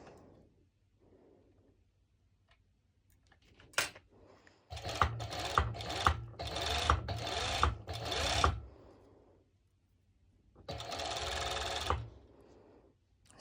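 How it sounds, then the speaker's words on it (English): Serger stitching rubber elastic onto fabric for an underwire bikini top, running in close bursts: a quick blip, then several seconds of rapid, pulsing whirring, a pause, and another burst of about a second. "now I'm going to my serger once again, and I'm going to apply as well elastic over"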